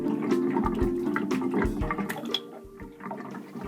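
An unvented hot water cylinder being drained gurgles as air is sucked through its tundish, with irregular glugs, bubbling and dripping water at close range, no talking.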